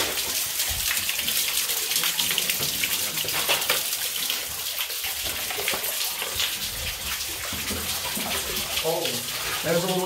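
Waterfall beside a boardwalk, a steady rushing splash of falling water that fills the whole scene, with people talking faintly underneath.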